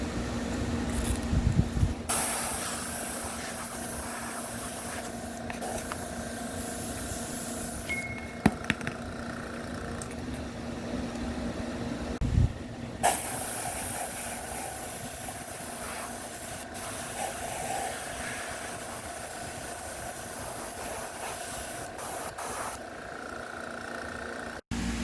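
An airbrush with a bottle attached hisses in long, uneven bursts as it sprays paint onto a helmet visor, starting and stopping several times.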